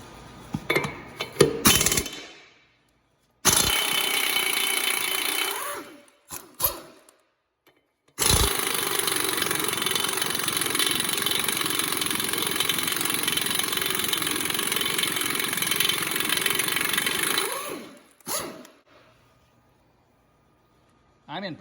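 A rebuilt Snap-on impact wrench removing tractor lug nuts that have not been off in 50-plus years, with two long, loud, steady bursts of rattling and whirring, short clanks and taps between them, and a voice talking in the gaps.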